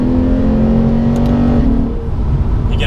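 A Lexus RC-F coupe's 5-liter V8 pulls hard at high RPM in second gear, a loud steady engine drone with a rising tone that drops off near the end.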